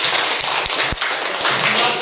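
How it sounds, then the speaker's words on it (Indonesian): Students in a classroom clap for a classmate in a short, dense patter, with a few sharper hand strikes standing out from the steady noise. "Tepuk tangan dulu untuk temannya Rizky."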